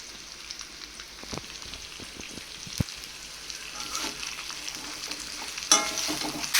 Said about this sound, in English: and garlic and tomatoes and some coriander leaves and roast them for 1 minute